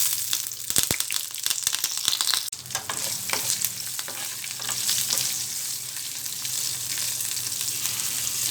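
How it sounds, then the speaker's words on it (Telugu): A tempering of seasoning seeds, garlic, dry red chillies and curry leaves fries in hot oil for an eggplant-mint chutney, a loud continuous crackling sizzle with sharp pops and stirring scrapes, no talk. "వెల్లుల్లిపాయ, ఎండుమిర్చి, కరివేపాకు వేసుకోవాలి."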